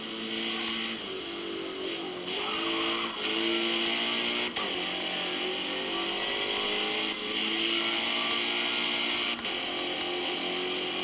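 A Mazda Miata race car in Forza Motorsport drives hard: a loud, steady engine drone that rises in pitch, drops back at a few shifts, then climbs again, with no talk over it.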